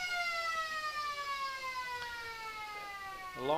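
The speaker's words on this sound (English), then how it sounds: "as the siren blows for the end of the first quarter" A long, steady siren sounds across an Australian rules football ground at a Riverina AFL match between the Lions and Tigers, marking the end of the first quarter. The tone slowly falls in pitch over crowd murmur.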